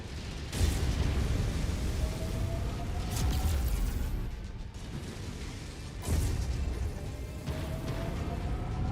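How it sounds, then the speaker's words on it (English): An ammo explosion on a mech in the video game MechWarrior 5, heavy booming blasts and rumbling debris, with repeated loud bursts over a dense mechanical background. "Got an ammo explosion on him."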